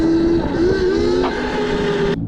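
A WindOne RM7 electric unicycle motor runs at full throttle with a steady, rising electric whine that holds close and loud for about two seconds, then cuts off sharply.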